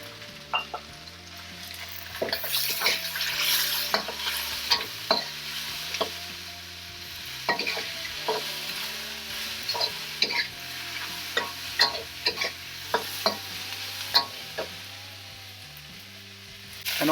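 Thai chicken with cashew nuts is stir-fried in a hot pan, with a steady sizzle under repeated close scraping strokes of the spatula in an uneven rhythm, and no talking.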